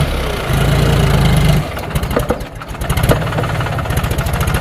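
A tractor engine runs close by with a loud, steady idle, then settles into a throbbing, rhythmic chug as it works on a farm field.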